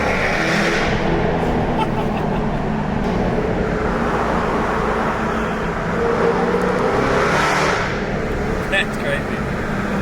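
Jaguar F-Type R engine revving in a road tunnel, a loud echoing roar that swells and settles with traffic-like rumble underneath, while people talk excitedly over it.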